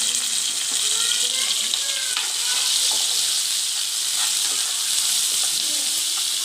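Onions with tomatoes and green chilies fry for a kaleji dish, giving a bright, continuous sizzle and hiss with occasional stirring, close up, while a voice talks faintly underneath.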